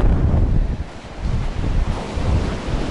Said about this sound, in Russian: О, видите, как заходит волна.